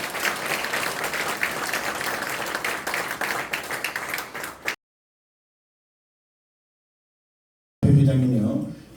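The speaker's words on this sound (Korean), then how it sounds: "다시 한번 수상자님들에게 큰 축하의 박수를 부탁드리겠습니다." Sustained applause from a crowd at an awards ceremony, dense and steady for several seconds, then a sudden cut to silence before clapping and noise resume loudly.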